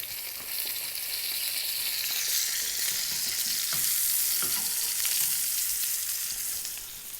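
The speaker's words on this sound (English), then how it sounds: "make sure that the oil reaches all the parts of the skin, because that is where it gets nice and crispy" Salmon fillets frying skin side down in hot oil give off a loud, continuous bright sizzle and crackle throughout, close up with a few faint pops and no speech.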